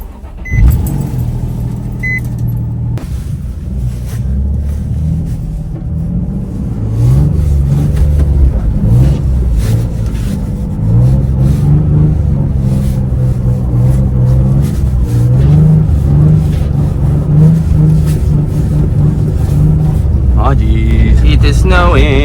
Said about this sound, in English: we're about to take the Z out on a little bit of a snow drifting adventure